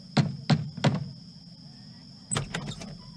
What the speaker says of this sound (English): He knocks on Ali Baba's door.